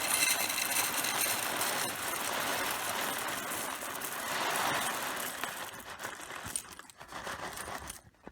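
A food vacuum sealer runs with a steady mechanical whirring and crinkling plastic, continuous and close by, then cuts off near the end.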